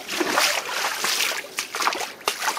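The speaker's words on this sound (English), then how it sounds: "That is a river coming in my backyard." Floodwater from melting snow rushes into a backyard, making continuous loud, close splashing and churning, with a few sharper splashes near the end.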